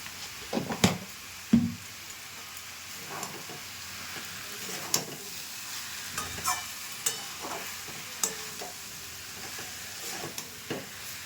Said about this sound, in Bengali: মশলাটা আর লবণটা দিয়ে ভালো করে কষিয়ে নিয়েছি